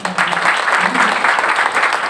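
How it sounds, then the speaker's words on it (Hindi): A short burst of clapping from a seated spiritual gathering, steady and moderately close, with a low voice faintly audible underneath at the start. "अब इसके लिए ताली बजाओ आप।"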